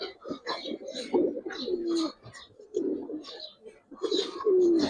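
Giribaz pigeons in a loft cooing close by, repeated soft throaty coos in short overlapping bursts, with light rustling between calls.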